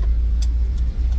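A steady, loud low rumble of a car driving along a road in Costa Rica, heard from inside the vehicle, with a constant engine and road drone throughout and no talking.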